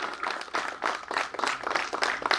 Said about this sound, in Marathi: टाळ्यांचा गजर सतत चालूच राहिला पाहिजे.